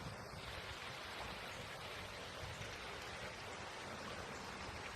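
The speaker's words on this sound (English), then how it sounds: "Listen to the creek. It's nice. Very relaxing." A creek flows steadily outdoors in a wooded area with fallen trees, giving a continuous broadband rushing and babbling wash with no breaks, close and fairly loud throughout.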